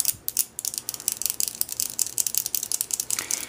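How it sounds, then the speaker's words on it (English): A fairly sharp knife is dragged along a 316L stainless steel watch band on a Swiss ceramic chronograph, giving a close, steady run of thin, rapid scraping clicks for several seconds with no talk. "It's a fairly sharp knife here. I'm going to take that right here along the band as well."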